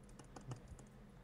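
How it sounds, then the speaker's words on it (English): Quiet computer keyboard and mouse clicking during a game of Garry's Mod hide and seek, a handful of soft, irregular taps close to the microphone. "Can you hear me clicking?"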